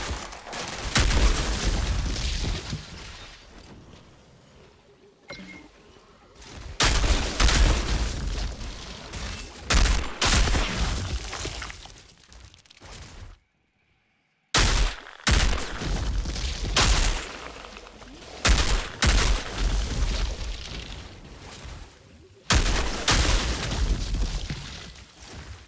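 Loud, dense gunfire and booming blasts from the shooter video game Outriders play in long sustained bursts, broken by a brief silent gap midway, with no talking over them.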